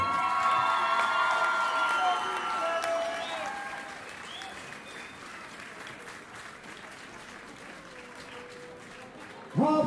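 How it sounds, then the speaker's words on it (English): A crowd at a women's professional boxing event applauds and cheers at a ring introduction, loud at first and then fading over several seconds, with an announcer's voice over the clapping and a brief loud burst at the end. "Please a round of applause for Miss Kelly Morgan."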